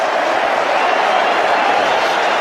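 A cricket stadium crowd at a tense T20 match roars in a steady, dense wall of cheering, loud and continuous throughout with no clear breaks.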